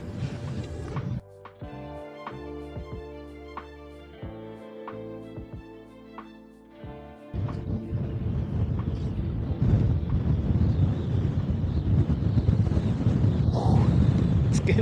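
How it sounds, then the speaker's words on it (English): Wind buffets the microphone out on open water during a kayak fishing trip for redfish, first under a steady droning tone, then turning into a loud, continuous broadband roar that builds toward the end. "It's getting windy."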